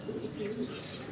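Several Sherazi pigeons, including Silver, red and other colour varieties kept as a home-bred flock, coo softly and steadily at close range in a low warbling murmur with no talk over it.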